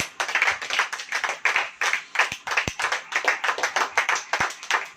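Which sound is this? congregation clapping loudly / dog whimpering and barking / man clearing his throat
congregation clapping loudly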